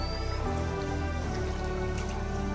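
Rain falling steadily over Konkan farmland during paddy planting, a soft continuous patter with scattered drips, moderately near and even throughout, with no voices.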